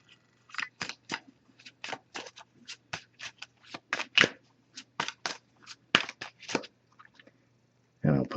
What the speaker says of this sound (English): I'm going to give it a few more shuffles now, though.